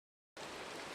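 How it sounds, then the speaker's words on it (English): Steady rain falls in a Minecraft game world, a dense, even hiss that cuts in abruptly after a moment of silence and holds at a constant level. "We're inside because you can hear it raining outside."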